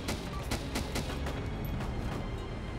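Repeated gunshots in the zombie survival game DayZ Origins, a dense run of sharp bursts over a steady rumbling background, fairly loud throughout with no talk.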